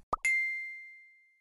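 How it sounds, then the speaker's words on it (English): A phone notification chime in the Piper's Pet Cafe video game: a soft plop followed by a bright single ding that rings out and fades over about a second, clean and alone. "My phone!"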